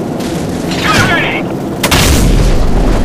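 A heavy explosion from an aerial strike in the video game Call of Duty 4, a sudden loud boom rolling into sustained low rumble amid continuous battle noise and radio chatter.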